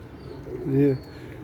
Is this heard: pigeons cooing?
yes